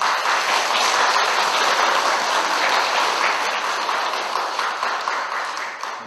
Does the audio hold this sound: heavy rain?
no